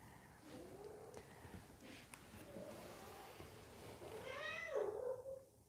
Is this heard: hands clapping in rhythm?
no